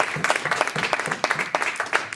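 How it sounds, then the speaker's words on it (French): A church congregation applauds, a steady patter of many hands clapping with rhythmic bursts, fairly close and filling the room, with no talk over it. "Applaudissons pour la parole."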